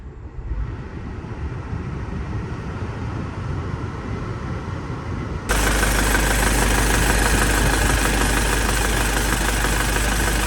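Mercedes W211 E-class engine idling steadily, then a louder, denser layer of continuous whir and rumble cuts in partway through as the air conditioning comes on, holding a constant drone to the end.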